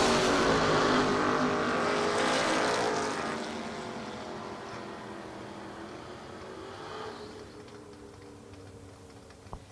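Drag racing dragsters launching from lanes 3 and 4 at a King of the Shore event, a loud engine roar at the start that fades steadily as the cars pull away into the distance.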